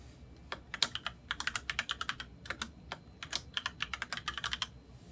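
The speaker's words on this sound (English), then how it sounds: "I type my name into the Sign On field" Quick, light keystrokes on a computer keyboard as a name is typed into a log form, a short burst of close clicks with brief gaps between words, quiet and alone.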